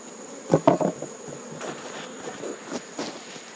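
Bees hum and buzz around an old wooden hive as they are moved into new polystyrene hives, a steady close drone broken by a few knocks and bumps from handling the hive.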